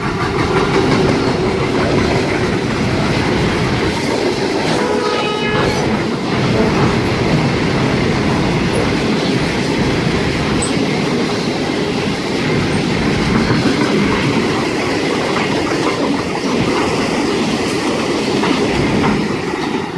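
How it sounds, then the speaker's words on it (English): A cement train led by locomotive 8105 rolls through the platform at Bargo station, a loud, steady rumble with clickety-clack of wagon wheels and a brief wheel squeal, sustained for the full pass with no talk. "We have a cement train pass on platform number 1, leading loco"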